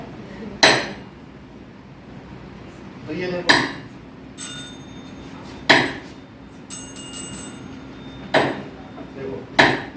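A tuning fork is struck about five times at irregular intervals, each a sharp metallic hit followed by a brief high ringing tone, with someone speaking Hindi between strikes.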